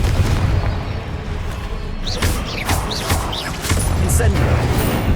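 Explosive Confringo spell blasts from Hogwarts Legacy, heard as a dense booming rumble with sharp bursts and crackles, fairly loud over continuous game combat noise, with a voice casting spells alongside.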